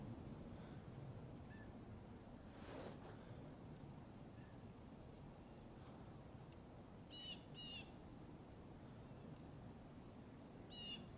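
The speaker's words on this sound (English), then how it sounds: "It's a bird of some sort." Faint, brief bird calls sound a few times in the distance over steady wind or outdoor hiss, with pauses between them.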